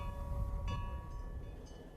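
An EMD F7 diesel locomotive, one built in 1949 for the Chicago and Northwestern and later used by Metra, rumbles steadily at a distance with a low engine drone and faint metallic tonal whines. Nobody speaks.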